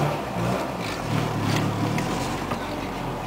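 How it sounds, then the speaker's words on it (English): A Honda or Acura car with OBD2 ignition runs at a steady idle, a continuous low engine rumble with broadband hiss, close and alone without any speech. "the car is warmed up and it's idling now"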